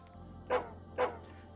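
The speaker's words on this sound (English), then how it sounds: "Oh, it's a puppo! It's a small white dog." Two sharp barks from a small white dog in the video game Psychopomp, spaced about half a second apart over a low steady hum, fairly loud and close.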